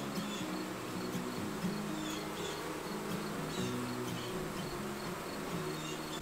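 Honeybees hum around an open Flow Hive in a continuous, fairly faint droning buzz with overlapping wingbeat tones that rise and fall slightly, with no voices.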